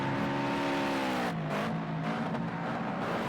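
Toyota 86 race cars in traffic at Snetterton circuit in Project Cars 2, engines droning and shifting pitch as several cars bunch up near a hairpin, loud and continuous with no talk.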